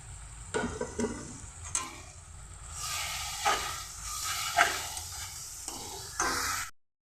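A spice mix fries with boiled tomato in a pan, a steady close sizzle broken by scraping stirs and a few louder clacks of the spoon against the pan, with no talk before it cuts off abruptly near the end.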